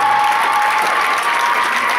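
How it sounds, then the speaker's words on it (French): Loud, dense applause from a gala audience, a continuous even roar of many hands clapping with no pauses. "qu'on applaudisse très fort Déborah"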